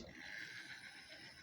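A small Hornby model train locomotive motor runs at high speed, giving a steady, close, whining mechanical buzz with faint ratcheting texture throughout, no talk over it.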